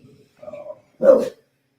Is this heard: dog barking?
yes